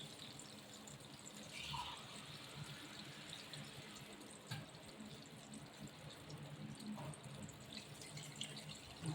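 Faint, quiet trickle of water being poured into a pot, with a soft splash and a few small clinks, no speech.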